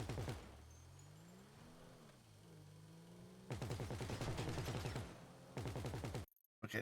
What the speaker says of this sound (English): he immediately starts shooting